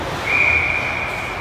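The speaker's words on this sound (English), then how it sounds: "Late whistle there a little bit" A referee's whistle at an ice hockey game sounds one sustained shrill blast against rink ambience, heard at moderate distance with no talk.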